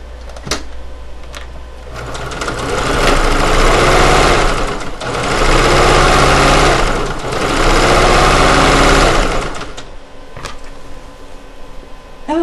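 A sewing machine stitches the pockets of a weighted blanket in a steady mechanical whir that runs several seconds, pauses briefly, then resumes. It is loud and close, with light handling noises before and after.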